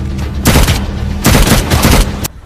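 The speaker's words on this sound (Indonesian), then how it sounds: "mereka langsung diberondong tembakan oleh tentara musuh" Sustained bursts of automatic gunfire from a war film battle scene between soldiers, loud and close, in two long rattling volleys separated by a brief lull, with no talking.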